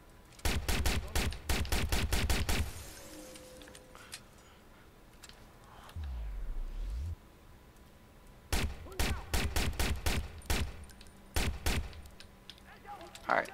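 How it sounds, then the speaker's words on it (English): Pistol gunfire in the video game Watch Dogs, heard as rapid bursts of sharp shots in two clusters, with a quieter stretch between them that holds a low thud and some game ambience. "I ain't got no sniper, I'm using a pistol."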